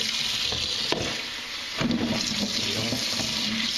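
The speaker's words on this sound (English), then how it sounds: "Okay, just gonna wash these up." Tap water running steadily over chili peppers being washed in a sink, a continuous close hiss and splash with a few brief knocks and shifts in the flow.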